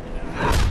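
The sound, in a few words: body check thud in Game of Thrones video game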